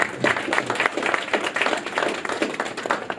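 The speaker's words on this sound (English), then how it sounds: "I think we should all give you a hand of applause." Brisk, dense clapping from people gathered at a post-fight press conference for an MMA event in Manchester, rapid and continuous across a few seconds.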